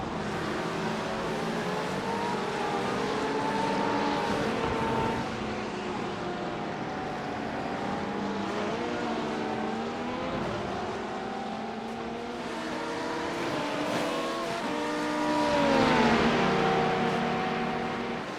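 An LMP2 prototype race car in the iRacing simulator drones steadily through its engine, pitch rising and falling with gear changes and throttle, loud and continuous with other cars nearby and no talk.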